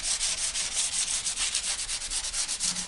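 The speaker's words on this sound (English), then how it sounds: "Now the only thing I'm doing here is I just want to sand smooth just a tiny bit to remove the edge." Sandpaper is worked by hand along the edge of a glassed surfboard before the gloss coat, a close, steady rhythmic scratching in quick back-and-forth strokes, about seven per second, with no talk.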